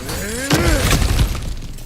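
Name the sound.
smashing through breakable objects in video game God of War Ragnarok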